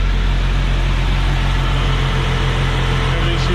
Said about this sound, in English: Right off the go, you can hear the sucking from under the cowl